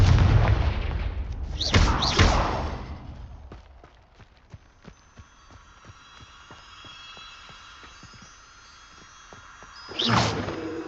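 Confringo, the fiery explosion spell in Hogwarts Legacy, bursts as a loud booming blast, followed by a crackling, popping tail and a fading rumble, then a second heavy explosion near the end.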